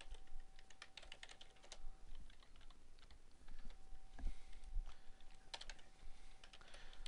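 Quiet, fairly continuous typing on a computer keyboard, with irregular bursts of light key clicks running for several seconds with no voices.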